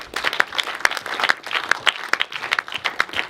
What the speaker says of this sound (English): Big round of applause for Paul who made this film happen.